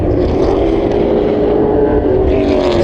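A late model race car fitted with a super late model engine at Willow Springs raceway, a loud, steady engine roar held at constant pitch with a faint whine on top.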